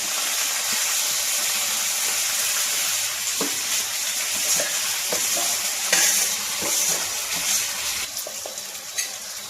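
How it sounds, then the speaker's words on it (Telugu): Boiled cluster bean pieces hit a pan of frying onions and green chillies, raising a loud, dense sizzle with scraping stirs and clatters of the spoon throughout, no voices. "ఇప్పుడు మనం ఉడకబెట్టి పక్కన పెట్టుకున్న చిక్కుడుకాయ ముక్కలు వేసేద్దాం"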